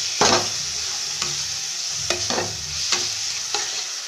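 Spice paste and tomato frying in a pan for Bhola fish curry: a constant close sizzle broken by repeated scraping stirs every half second or so, with no talking.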